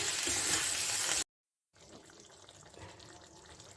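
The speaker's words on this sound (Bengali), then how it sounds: "এখানে গরম জল দিয়ে দিচ্ছি" Hot water pours into simmering curry for a jackfruit and prawn dish, a loud rushing splash that cuts off abruptly, followed by a quieter low bubbling.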